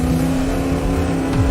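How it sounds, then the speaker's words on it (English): Toy race cars speed down a track during a race, a continuous loud engine roar with a slight rise in pitch near the end and no voices over it. "Cruz Ramirez and Jackson Storm racing down the track."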